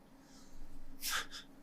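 A cat gives a single short, breathy sneeze, quiet and close, preceded by faint sniffing breaths with no talk.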